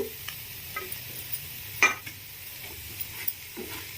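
Ridge gourd pieces and moong dal fry gently on a low flame while being stirred, giving a quiet, soft sizzle broken by scattered spoon taps and scrapes against the pan.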